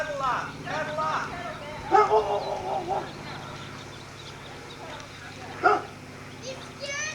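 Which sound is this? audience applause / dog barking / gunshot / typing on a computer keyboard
dog barking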